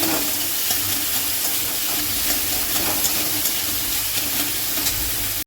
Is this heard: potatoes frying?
yes